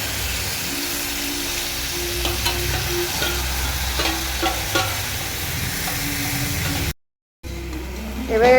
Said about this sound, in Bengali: এবার এটা আস্তে আস্তে নেড়ে নেড়ে কষতে হবে, যতক্ষণ না মাংস থেকে তেল বেরিয়ে আসে ততক্ষণ পর্যন্ত কষতে হবে।